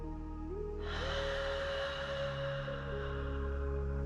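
A long, deep, breathy exhale during a workout breathing exercise, close and soft, starting about a second in and trailing off over a steady low hum of background music.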